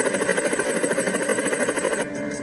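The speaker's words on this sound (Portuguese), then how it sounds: "Parece um helicóptero pra mim." A helicopter in a Portuguese-dubbed film, its rotor giving a steady, fairly loud pulsing beat with engine drone that holds for about two seconds before thinning out.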